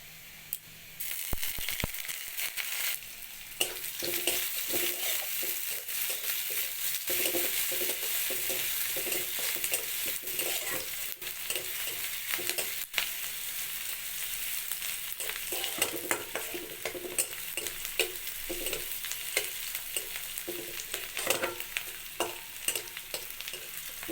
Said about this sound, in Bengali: রসুন আর পেঁয়াজ ভালোভাবে ভাজা হয়ে গেছে